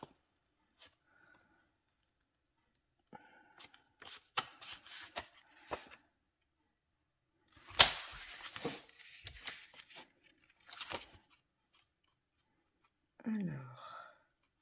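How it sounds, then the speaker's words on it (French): Paper card stock is folded in half by hand for a handmade card, with quiet, scattered crinkles and creasing rustles in short bursts separated by near silence. "Et là, on va plier en deux."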